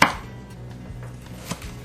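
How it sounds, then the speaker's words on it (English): A knife slicing through a baked raspberry cookie log, a crisp first cut followed by softer taps of the blade on the board, quiet and close with no voices. "then you're going to cut it in 3/4 inch slices, diagonally"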